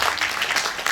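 A church congregation at a Sunday worship service breaks into brief, dense applause, moderately loud and continuous for under a second.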